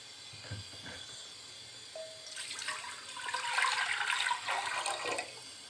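Rushing, splashing water, 1.5 litres poured into a pan on a stove, builds steadily and fills the space for a few seconds before easing, with a soft hiss throughout.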